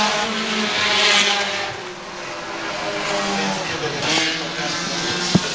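Pure stock race cars roar down the back straightaway at a speedway, a loud continuous engine drone rising and falling as the field passes, with an announcer's voice running over it.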